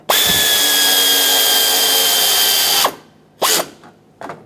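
A power tool snugs a bolt on a 2007-2014 Chevrolet Silverado 2500 HD during AC condenser replacement, whirring steadily for about three seconds close up, followed by two short bursts.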